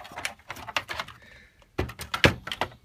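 Keys clatter on the Cherry keyboard of a Tandata TD4000 data terminal, rapid crisp typing close by in two bursts with a brief pause between.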